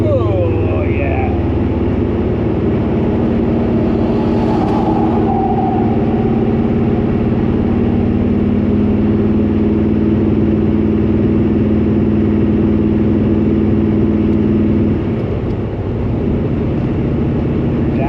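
A car nicknamed Ghost, fitted with new performance shocks, sends a steady low engine drone through the whole stretch as it is shifted down a gear, the note shifting slightly near the end while a voice talks over it.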